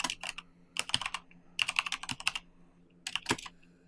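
Fingers type code on a computer keyboard in rapid bursts of close, crisp key clicks separated by short pauses, with no voices.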